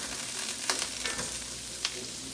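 Onions caramelizing in a hot pan on a stovetop alongside steak, a close, steady sizzle with a few soft stirring clicks and bumps.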